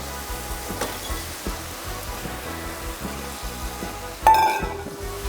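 Crawfish go into a pan of étouffée-style sauce, which keeps up a steady, soft sizzle with faint stirring taps before a louder splashing hiss as they are dumped in near the end.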